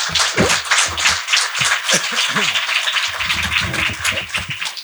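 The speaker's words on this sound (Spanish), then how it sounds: "así le damos la bienvenida a Jorge Fondebrider con un aplauso" An audience applauds to welcome a guest at a literary talk on Borges, clapping loud and close with a few voices murmuring underneath.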